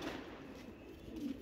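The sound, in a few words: female pigeons cooing in loft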